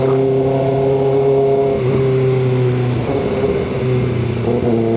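A nearby 2026 Kawasaki Ninja ZX-6R motorcycle engine hums steadily and rises in pitch twice as it is revved, with no talking.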